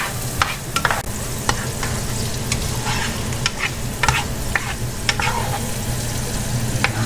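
Meatballs and pan drippings sizzle steadily in a frying pan while a utensil stirs and scrapes in irregular clicks, close and continuous with no talking.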